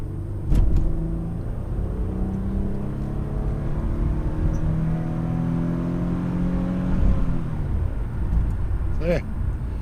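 A 2000 Toyota Estima Aeras Spec-L with a 3.0L V6 and AWD accelerates from inside the cabin, its engine note rising steadily through the revs, then easing off as a voice talks over it.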